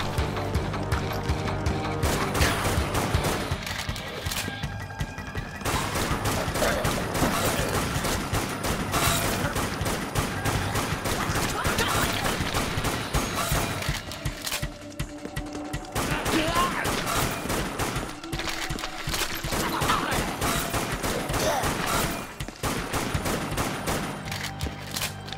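Rifle fire from the video game Dead Nation rattles in dense, continuous volleys with mechanical clatter, loud and nearly unbroken throughout.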